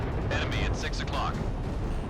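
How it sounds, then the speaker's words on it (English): A deep, rumbling explosion in the jet combat video game Ace Combat 6 fills the whole moment with dense, sustained roar, while a voice briefly cuts through on top. "that explosion sounds fantastic"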